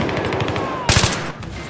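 An AEK assault rifle fires in Battlefield 3, a loud rapid burst of automatic gunfire near the middle amid constant game battle noise.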